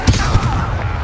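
A Levioso levitation spell cast in Hogwarts Legacy during combat, a short burst with a sharp attack up front that settles into a dense, rumbling low end, loud and close.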